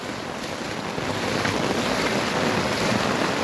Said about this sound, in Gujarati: જો પાણી ખૂબ આવી ગયું છે